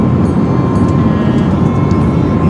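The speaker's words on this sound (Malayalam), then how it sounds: "നമ്മളപ്പം ഫ്ലൈറ്റിൽ ഇരിക്കുകയാണ്." Steady, loud roar of airplane cabin noise during a flight from Delhi, a constant deep engine and air rush with no pauses.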